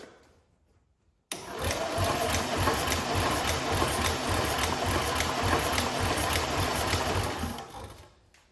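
A dynostart spins over the engine of a veteran car through a belt, switching on abruptly into a loud, steady, fast whirring drone that runs about seven seconds before winding down.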